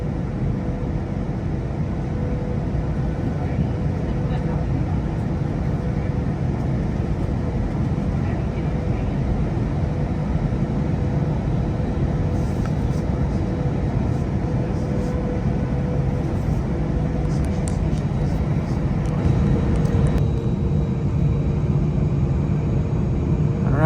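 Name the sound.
airplane taking off from the runway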